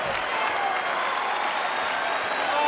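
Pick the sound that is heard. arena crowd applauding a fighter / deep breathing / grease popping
arena crowd applauding a fighter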